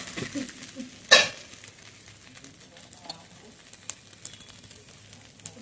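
Pointed gourd, fried soybean chunks and fried potato being stirred with spices in a pan, a soft ongoing sizzle with scraping stirs and one sharp clatter early on.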